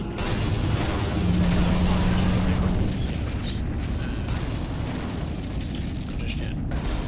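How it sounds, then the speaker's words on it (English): A Klingon vessel blows apart in the Star Trek Legacy space game, a sustained loud rumbling explosion roar that fills the scene, with a voice speaking over it. "Klingon vessel destroyed."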